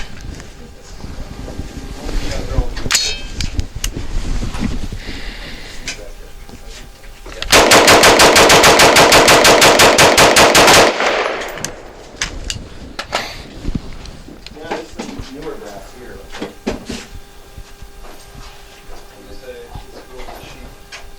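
V Seven Enlightened rifle fired rapidly to heat the barrel, a loud sustained burst of fast, evenly spaced shots lasting about three seconds, preceded and followed by scattered handling clatter, wind noise and someone talking.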